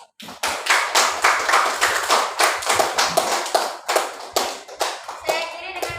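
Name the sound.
audience applause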